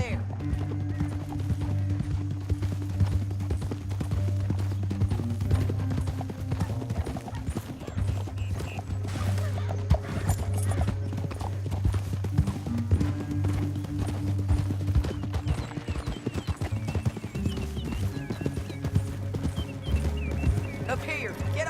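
Steady clip-clopping of horse hooves trotting at an even rhythm in the video game Red Dead Redemption 2, accompanied by a low droning musical score and occasional voices.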